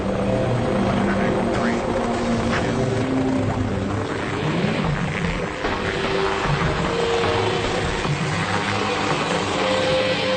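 A Fire Scout unmanned helicopter taking off and flying, a loud continuous rotor and engine roar with a steady throbbing drone, with a voice talking over it.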